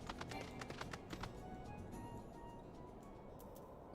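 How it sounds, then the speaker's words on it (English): Horse hooves clip-clop at a quick, steady rhythm as a rider moves indoors through an office in a post-apocalyptic video game, faint under a low background hum. "I'm riding my horse in your office."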